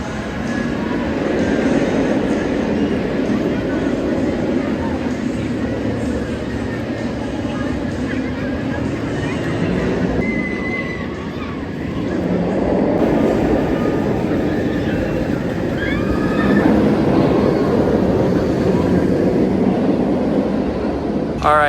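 Riding the Great Bear B&M inverted roller coaster at Hersheypark brings a loud, continuous rumbling roar of track and rushing wind that swells and dips over twenty seconds, with voices faintly audible underneath.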